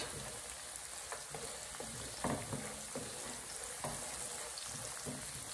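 Diced onions sizzle in a pan for chicken fried rice, giving a steady, faint hiss of frying broken by occasional soft stirring scrapes and clicks, with no talking.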